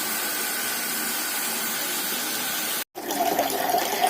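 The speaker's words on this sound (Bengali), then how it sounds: "এখন ফিল্টার থেকে জল গড়াচ্ছে" Water pours steadily from a home water filter in a steady close hiss and trickle, briefly interrupted, then resuming with a slightly brighter splashing stream.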